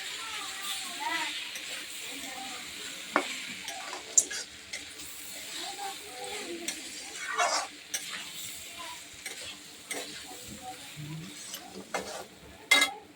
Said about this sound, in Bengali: এবার মশলাটা, পেস্ট করা মশলাটা দিয়ে দিলাম। হালকা মশলা দিয়েছি, আদা জিরে।